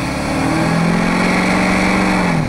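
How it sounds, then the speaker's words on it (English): A diesel truck engine runs loud and close with a steady droning rumble, a faint turbo spool whistle riding above it. "the turbo spool sounds amazing"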